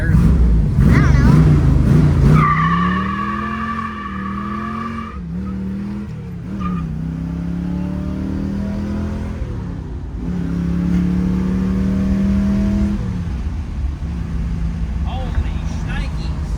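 A 1967 Chevrolet Camaro RS with a built 327 small-block and four-speed roars through loud revs and acceleration with tire squeal, the engine pitch climbing and dropping in long sweeps, close and dominant.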